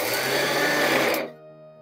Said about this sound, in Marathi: डाळ बारीक करताना आपल्याला मिक्सर बंद चालू करून पल्स मोडवर बारीक करायची आहे